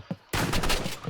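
Gunfire in the Roblox Rivals shooter game: a short tap, then a dense burst of rapid shots filling the rest of the moment, loud and close.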